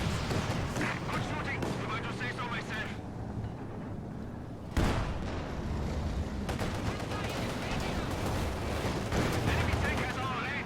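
Bursts of machine gun fire and heavier booms crackle through a WWII strategy game battle, rapid rattling volleys running almost continuously, with a sharp loud impact midway.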